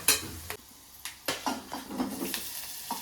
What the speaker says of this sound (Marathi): पण परतून घेऊ आपण. बटाटा टाक.